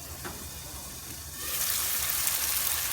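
Onion, tomato and yogurt gravy masala sizzling and frying in a pan, a steady close sizzle that grows louder and brighter partway through, with no voices.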